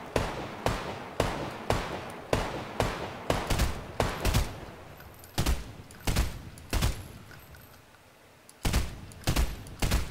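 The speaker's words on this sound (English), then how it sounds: "Looks like you're getting shot at." Gunfire in the video game Fortnite rings out as a string of sharp, loud shots, single and in short bursts at an uneven pace, with a brief lull near the end before the shooting resumes.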